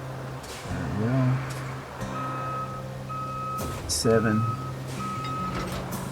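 Truck reversing beeps in the video game RoadCraft, a steady run of evenly spaced electronic tones while a player talks over them and other vehicle noise.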